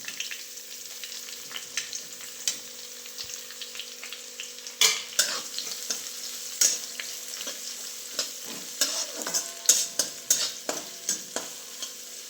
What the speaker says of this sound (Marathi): आता कांदा टाकते भाजायला.